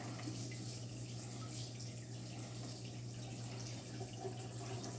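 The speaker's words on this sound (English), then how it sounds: "I'm going to go rinse off my fork." A fork rinsed under a running kitchen tap while baking a rainbow cake: a steady, even rush of water from start to finish, faint and close, with no voices.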